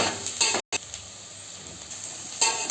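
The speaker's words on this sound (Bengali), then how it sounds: "বেরেস্তা মতন করে ভেজে নেবো।" Plenty of sliced onions frying in oil until browned for chicken biryani, a steady hiss with a brief cut-out and louder scraping bursts at the start and end.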